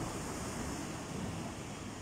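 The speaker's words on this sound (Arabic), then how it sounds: "اليوم البحر هايج بزاف" Rough, churning sea surf on a Costa del Sol beach in Spain, a steady broadband wash of breaking waves mixed with wind noise, continuous and fairly loud with no voices.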